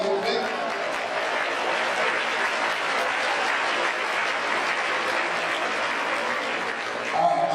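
An audience at a River City Science Academy kickoff event applauds for people they are with, a dense, steady wash of clapping that holds evenly for several seconds at moderate level.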